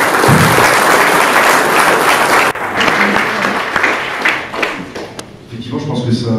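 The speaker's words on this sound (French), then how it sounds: "ça peut valoir tous ces applaudissements" Loud audience applause closes a round-table talk on digital identity, a thick wash of many hands clapping that thins out near the end as a voice begins to speak over it.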